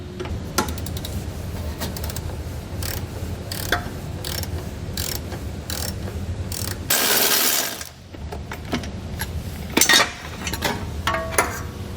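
A ratchet wrench works loose six 18mm bolts holding the tow hook to the frame rail of a 2020 Nissan Rogue, giving steady close mechanical clicking throughout with a brief louder burst partway through.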